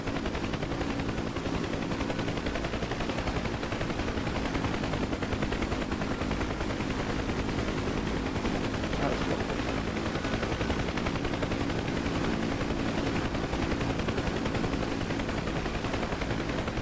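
UH-1 Huey helicopter door gunners fire machine guns in the DCS flight simulator, a dense, steady roar of gunfire and rotor noise running continuously without pause and with no talk.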